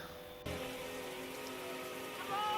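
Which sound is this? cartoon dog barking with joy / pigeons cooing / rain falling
rain falling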